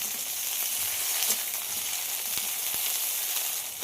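Boiled, cut okra frying in hot mustard oil in a pan, giving a steady, loud crackling sizzle with faint stirring clicks throughout, no voices.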